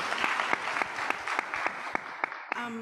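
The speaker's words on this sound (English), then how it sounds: "20-year applause." An audience at a university president's address applauds, a dense run of many hands clapping at moderate distance, ending with a voice starting to speak.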